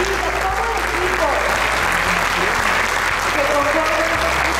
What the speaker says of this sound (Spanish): a brindarle un fuerte aplauso